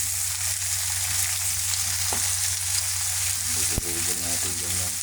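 Tomato frying in a pan gives a steady, close sizzle with stirring, a brief clunk of a utensil, and a soft voice murmuring in the background toward the end.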